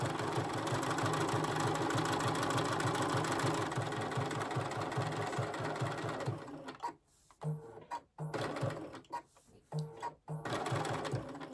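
A sewing machine stitches fabric close up, running in a fast steady rhythmic whir for several seconds, then stopping and restarting in short bursts.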